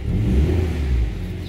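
A 2019 Mini John Cooper Works three-door F56 revs briefly, a loud, close engine rumble that swells and then eases off, heard alone with no voices.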